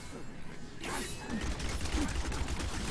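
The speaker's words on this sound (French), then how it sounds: "J'ai entendu un gobelin au trésor." Treasure goblin in a video game giving off a low, creaking mechanical rattle with ratchet-like clicks, building slightly after the first second over steady game ambience.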